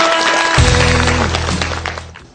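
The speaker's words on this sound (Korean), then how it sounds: "탈락한 숙명여고에게 위로의 박수 부탁드립니다" Applause from a studio audience at a televised Korean high school quiz show, honoring the eliminated Sookmyung Girls' High School team; loud, dense clapping that begins abruptly, holds steady with a low hum beneath, then gradually fades.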